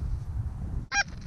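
A single goose honks over an Iowa cornfield during a hunt, one short, distant call cutting through steady low wind noise.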